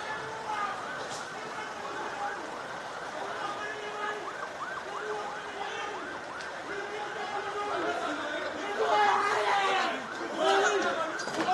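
An ambulance siren wails steadily in the distance, rising and falling over a busy background of people chattering nearby.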